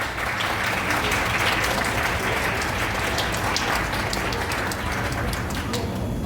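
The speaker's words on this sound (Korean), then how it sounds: "여러분의 뜨거운 박수로 시작하겠습니다. 박수 부탁드리겠습니다." Wedding guests in a wedding hall applaud loudly and steadily as the ceremony begins, the dense clapping of the large crowd continuing without a break throughout.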